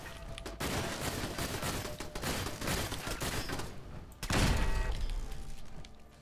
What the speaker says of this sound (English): Did you hear those pew pew pew? Those are gunshots.